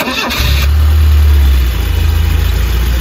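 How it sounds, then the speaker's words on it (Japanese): An Isuzu Piazza's engine cranks briefly, catches and settles into a loud, steady, smooth idle close by. "エンジンかけていただいてよろしいですか"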